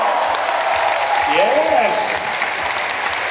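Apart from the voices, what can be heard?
audience applause at a product event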